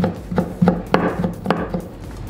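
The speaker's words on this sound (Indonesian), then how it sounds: "Terasinya diiris aja" Shrimp paste (terasi) being sliced fine with a knife for sambal, heard as a close run of about eight light chopping taps against a cutting board, fairly steady in rhythm, with no voices.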